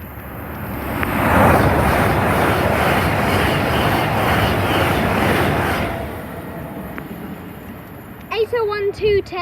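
Class 717 electric train at Stevenage station on the East Coast Main Line, a loud rumbling roar of wheels and motors swelling and passing close by, then easing off into lighter rattling.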